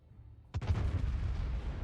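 A World of Warships naval battle: a heavy warship gun salvo fires armor-piercing shells at the cruiser Des Moines, a sudden sharp blast that rolls into a loud, sustained low rumble.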